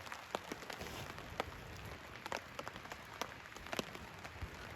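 Rain falls on a solo bushcraft hammock camp, a quiet steady patter broken by frequent sharp drips and drops striking nearby surfaces.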